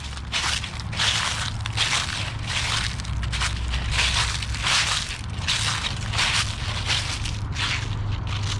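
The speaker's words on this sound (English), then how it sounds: "I love the sound of leaves below my feet." Dry fall leaves crunching underfoot in a steady walking rhythm outdoors, each step a close, crisp rustle, with no voices.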